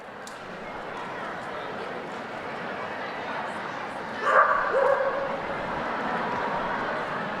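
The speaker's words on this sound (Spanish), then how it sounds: "Vemos también que hay un perrito que está haciendo sus actuaciones." A small dog yips and barks in a short burst partway through, heard faintly amid crowd murmur and background talk at a large indoor general audience.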